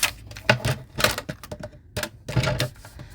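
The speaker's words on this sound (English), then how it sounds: "I'm going to be scoring on the back side because it's a little bit easier than scoring on the foil" Cardstock is scored on a scoring board, giving a quick run of sharp, close scratchy strokes and clicks in uneven bursts with brief pauses between them.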